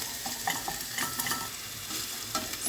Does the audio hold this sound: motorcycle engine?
no